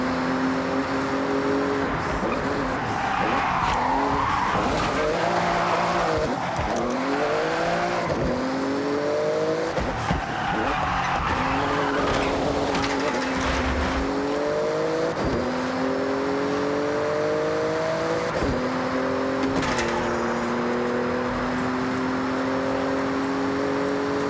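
A Porsche in the Forza Horizon 6 racing game roars loud and continuous, its engine climbing and dropping through repeated gear shifts and revs, with tire squeal and skidding mixed in and no talking.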